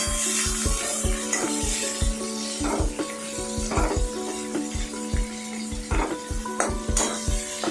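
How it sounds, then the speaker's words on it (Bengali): Onion frying in hot oil, a soft sizzle under repeated rhythmic scraping and tapping strokes of a spatula against the pan, close and fairly quiet, with no voices. "তারপরে পেঁয়াজটাকে ছাড়া হলো গরম তেলের মধ্যে।"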